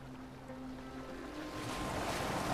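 A boat sails on open water in Assassin's Creed Valhalla, with a steady wash of waves and wind swelling louder toward the end and no voices over it.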